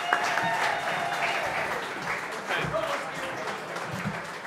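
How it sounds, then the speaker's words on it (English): Applause from an audience at a football club's awards ceremony, a continuous dense clapping crowd for several seconds, fairly close, with faint voices mixed in. "Another round of applause for the men's team"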